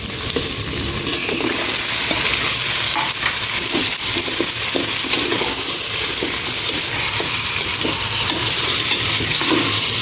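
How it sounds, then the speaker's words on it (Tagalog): Pork sautés with tomato in a hot pan, sizzling loudly and continuously while a utensil scrapes and stirs in repeated strokes, close and without talk. "Ilagay ko na itong pork."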